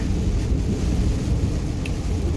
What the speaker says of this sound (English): It is raining, as you can tell, and it's actually very cold.